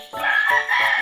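A rooster crows close by in a backyard garden among chickens, a loud, strained call broken into quick pulses that fills the whole second.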